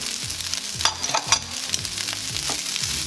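Fried rice with onions and Cajun spices is stirred in a hot pan, a continuous loud sizzle broken by rhythmic scraping strokes of the spatula against the pan, close up and without voices.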